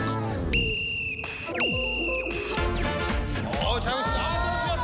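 Sharp, high whistle blasts signal the start of a game in a Korean variety show, several piercing toots over lively talk and studio noise.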